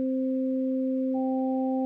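Pure sine wave tones layered together, two steady electronic hums joined partway through by a third higher tone, clean and sustained with no other sound.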